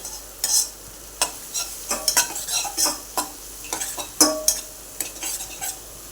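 Spices and salt being sautéed in a pan for okra curry, with a steady low sizzle under frequent close scraping and clinking of a spoon stirring, no voices.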